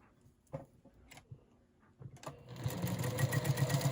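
A sewing machine stitching down the middle of a quilt block starts after a few quiet handling clicks, running as a fast, steady, close mechanical whir with a rapid rhythmic needle pulse.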